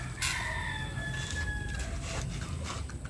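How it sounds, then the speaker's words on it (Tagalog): A rooster crows once, loud and close, its long drawn-out call rising and falling over a steady background hum. "Kaya mga tandang."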